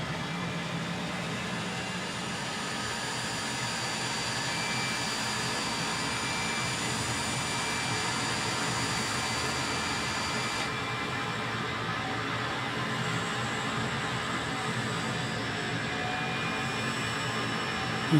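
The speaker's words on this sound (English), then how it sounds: "As we can see here, spooling up." Jet engine of a Leonardo MB-346 trainer jet in Microsoft Flight Simulator 2020 spooling up, a steady loud broadband roar with a high whine that holds evenly throughout, shifting slightly in tone partway through, with no talking.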